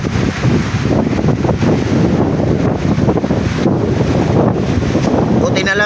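Strong coastal wind near the shore at low tide roars and buffets the microphone in a continuous loud rush for the whole stretch.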